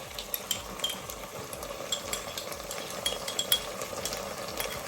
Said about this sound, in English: I'm slowly going to stir in the ginger garlic paste